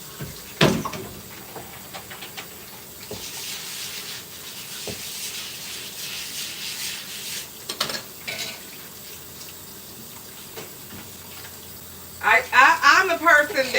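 A cutting board gets rinsed under a running tap, faint rubbing and light water noise under a speaking voice, then a louder gush of running water at the end.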